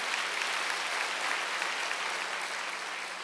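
Steady, dense applause from a church congregation at a Wednesday worship service, a sustained even wash of many hands clapping with no voices over it.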